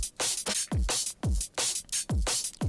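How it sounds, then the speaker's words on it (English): Heavily compressed electronic drums squashed by two compressors, a fast loop of punchy booming kicks and bright hissing snare hits, loud and dense with almost no dynamic range. "I'm just completely squashing the drums with two different compressors, so it sounds like this."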